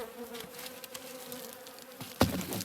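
Bees buzzing in a hive during winter insulation work, a faint tonal hum with a sharper rustle or knock near the end, close and otherwise quiet.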